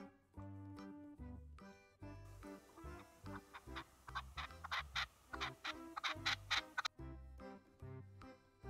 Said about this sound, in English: Partridge, partridge.